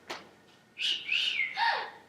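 A person whistles a short melodic phrase of rising and gliding tones, clear and fairly close, with no one talking over it.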